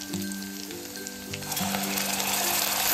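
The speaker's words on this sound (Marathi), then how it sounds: "आपण तेल सुटेपर्यंत आता परतून घ्यायचं" Tomato puree sizzles and spits in hot oil while being sautéed for chole, with a continuous close frying hiss, stirring scrapes, and steady background tones.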